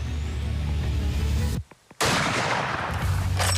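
Rifle fired while hunting a dugaboy buffalo bull in open bush: one or two sharp reports amid loud, rough wind and handling noise, with a brief near-silent gap in the middle.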